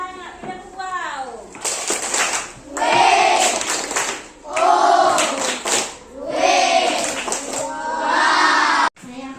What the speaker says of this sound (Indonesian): Tepuk tangan, tepuk wow.